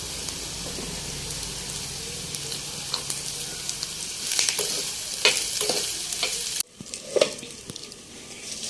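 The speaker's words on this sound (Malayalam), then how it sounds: "ഒരു ലേശം ഉപ്പ് ചേർത്ത് വഴറ്റിയെടുക്കാം" Bitter gourd sautéing with a pinch of salt in a pan, a steady sizzle with stirring scrapes that grow busier midway, then a brief quieter stretch as the stirring continues.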